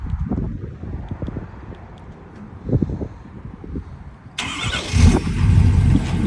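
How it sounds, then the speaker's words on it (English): A 2018 Ford F-350 Platinum FX4 diesel pickup cranks and fires, its engine catching abruptly into a loud, steady idle close by after quieter rustling and clicks beforehand. "Give the old diesel a second to register, and she's fired right up."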